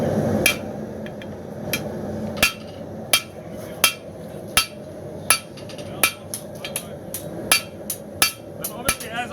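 Hammer blows on hot round bar stock as a knife taper is forged at the anvil, sharp ringing strikes at a steady, slightly uneven rhythm, about a dozen and a half over a low background roar.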